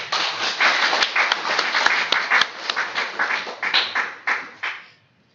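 A seminar audience applauds after a lecture with a burst of clapping from many hands. It stays steady and full, then thins into a few scattered claps before stopping.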